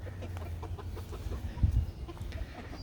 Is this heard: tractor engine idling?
no